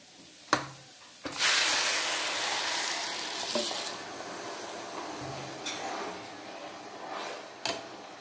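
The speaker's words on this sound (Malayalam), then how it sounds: "എന്നിട്ട് ഇളച്ച വെള്ളം ഇതിലേക്ക് ഒഴിച്ചു കൊടുക്കാം." Boiling water hits frying rice for ghee rice in a pan, setting off a loud, sustained hiss that slowly fades, with a few sharp clicks and clanks around it.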